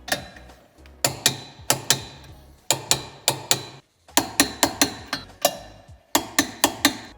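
Sharp metallic clicks of a ratchet wrench tightening 12 mm towbar mounting bolts on a 2015-2024 Mini Clubman F54, quick bursts of evenly spaced ticks separated by brief pauses, close and crisp.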